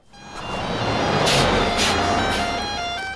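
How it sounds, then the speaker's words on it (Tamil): A bus pulls in, a broad engine rumble swelling and then easing, with a bright hiss of air brakes and a series of high tonal beeps over it, heard nearby without voices. "சார், பஸ் வந்துருச்சுன்னு நினைக்கிறேன்."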